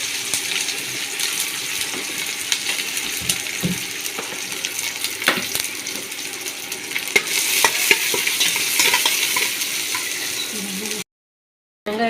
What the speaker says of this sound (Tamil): கொஞ்சம் போல் வெங்காயத்தை போட்டு நல்லா பொன்னிறமாக வறுத்துக்கணும்.